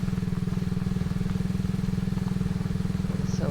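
ATV engine in the survival game Subsistence, a steady, rapid pulsing putter running close and even for a few seconds, like a small engine idling or driving slowly.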